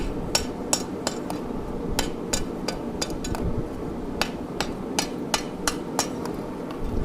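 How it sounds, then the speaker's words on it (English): A rawhide mallet strikes a hot forged steel hook on an anvil in a steady series of sharp, close blows, roughly two or three per second, over a constant low shop hum. "As you can see, I'm using this rawhide mallet again."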